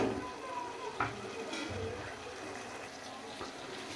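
Cauliflower chicken curry simmers in a pan, a low bubbling sizzle with occasional soft stirring clinks, fairly quiet and steady throughout.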